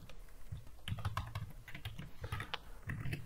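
Steady clatter of keys on a computer keyboard, close and quiet, with irregular bursts of keystrokes running throughout while someone writes code.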